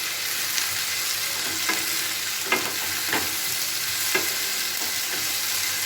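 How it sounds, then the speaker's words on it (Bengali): Bitter gourd and potato sautéing with spices in a pan, a steady close sizzle and fry with a few sharp clinks and scrapes of a spatula stirring at irregular intervals. "মশলার সাথে কষিয়ে নিতে হবে।"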